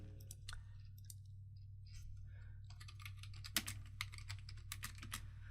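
Irregular keyboard typing while script code is entered on a computer, with quick soft clicks in scattered bursts and a louder keystroke near the middle, over a steady low hum.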